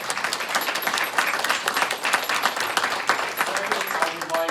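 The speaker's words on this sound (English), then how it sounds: "would ask that we all give all of our amazing principals a big round of applause to say thank you" An audience at a county board of education meeting applauds school principals, with dense, steady clapping filling the room throughout.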